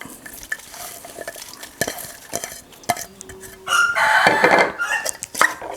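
Catfish mok mixture with vegetables is tossed and mixed in a pot in an Isan-style kitchen, soft wet stirring and scraping up close, with a rooster crowing nearby in the middle of the mixing.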